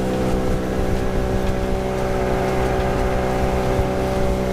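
A 1997 50 hp two-stroke Nissan outboard motor drives a small Macgregor 26X boat at cruising speed, a loud, steady droning buzz with constant pitch and some wind noise, no talk.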